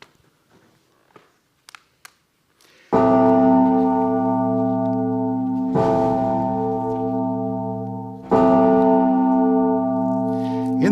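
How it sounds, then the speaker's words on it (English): A church bell in a tower tolls long and slow, three loud, deep strikes each left ringing and humming for several seconds, after a few faint clicks and rustles. "In the darkness, the bell in the tower tolls. This time it is long and slow, a dirge, signaling a death."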